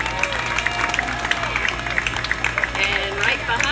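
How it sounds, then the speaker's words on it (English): Crowd at a youth baseball game cheering and clapping, a busy spread of claps and shouts lasting throughout at moderate loudness with babble underneath. "let's cheer Logan on in"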